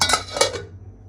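A single metallic clank of a lid set onto a cooking pot, short and close, ringing briefly before dying away.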